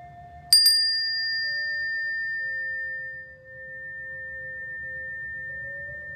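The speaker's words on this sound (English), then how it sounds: "I needed to ring my Bali bell for you guys." A Bali bell is struck once, giving a bright ringing chime that sustains and slowly fades over several seconds, with a faint low hum underneath.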